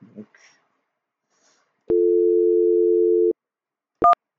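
Telephone line tone on a FreePBX test call: one steady electronic ringback tone held about a second and a half, then a brief higher two-tone beep, clear and alone against near silence.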